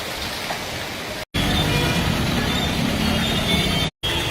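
Heavy rain pours down steadily in Gangapur City, a dense, loud hiss with no break except two brief cuts.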